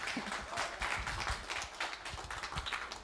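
A modest audience at a Platform to Perform show applauds a performer, the clapping quiet and somewhat distant, coming in uneven bursts for a few seconds.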